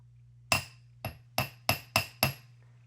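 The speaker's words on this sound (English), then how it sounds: "I'll use a steel bench block, and for the Celtic link pieces, I'll use a flat face hammer" A flat face hammer taps Celtic wire links on a steel bench block, six crisp metallic strikes at uneven spacing over a low steady hum, close and fairly quiet.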